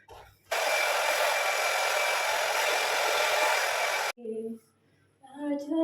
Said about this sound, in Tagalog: Ngayon ay ako ay magpapatuyo ng buhok. Mag-blower ako ngayon.